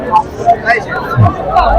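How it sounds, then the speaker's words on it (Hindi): Crowd hubbub at Pramukh Swami Nagar in Ahmedabad, facing the Pramukh Swami Maharaj statue during the centenary festival: a steady murmur of many voices, moderately loud and close, with no single speaker standing out. "काफी भीड़ है अभी तो, वैसे रोज यहाँ पर भीड़ तो रहती ही है।"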